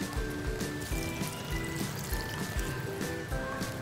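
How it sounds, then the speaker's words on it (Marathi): A glass of water pours into a mixed veg Kolhapuri gravy, a steady close trickle and splash with small bubbling pulses, no talk. "आपण याच्यामध्ये 1 ग्लासभर पाणी टाकून घेणार आहोत"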